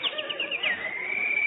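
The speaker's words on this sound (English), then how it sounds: "Oh, Jack, look at that beautiful bird on your lawn." A small bird on a lawn gives a quick series of short chirps that run into one long, thin sustained whistle, close and clear against quiet surroundings.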